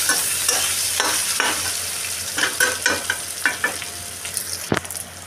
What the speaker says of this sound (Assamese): ভাজিম ধুনীয়াকৈ আলুটো।